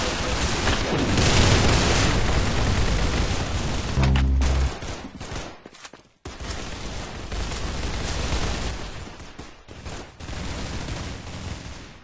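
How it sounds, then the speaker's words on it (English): Rapid gunfire and booms from the Roblox Arsenal shooter game, dense continuous bursts of shots with a brief drop-off midway before firing resumes, loud and close. "Very good shooting."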